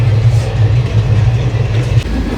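Steady low rumble of a passenger train with sleeper berths, running loud and continuous throughout with no talk over it.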